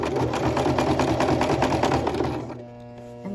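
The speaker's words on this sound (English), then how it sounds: "And so you're sewing that down." A sewing machine stitches a skirt seam in a steady, fast mechanical whir that runs loud and close, then stops, leaving a quiet hum.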